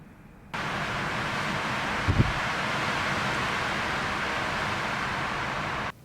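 Steady broadband wind rushing outside a travel trailer in Arizona, a constant roar starting abruptly and holding evenly for several seconds with one brief thump partway through.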